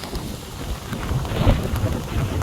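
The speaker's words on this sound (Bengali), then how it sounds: "আকাশে প্রচুর বৃষ্টি" A Kalbaishakhi storm brings heavy rain that roars continuously, with low rumbling thunder and gusty wind underneath, loud and enveloping, with no speech.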